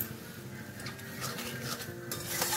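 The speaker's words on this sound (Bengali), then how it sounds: "এবার ফ্লেমটাকে আমি মিডিয়াম টু লো করে খুব ভালো করে এটা কষে নেব মশলাটাকে।" Spice masala with salt and tomato fries over medium-low flame in a pan for a Bengali chicken and potato curry, a soft continuous sizzle under steady scraping and stirring strokes, close up.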